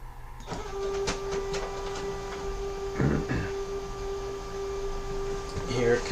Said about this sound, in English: I've got a pretty fast laser printer